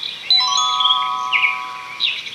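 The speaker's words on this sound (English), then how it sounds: "When it's time to turn the page, you'll hear the sound of the bell like this." A bright chiming bell tone signals the page turn on a Winnie the Pooh read-along cassette, ringing clearly with sustained, overlapping tones and a soft repeated accent near the end.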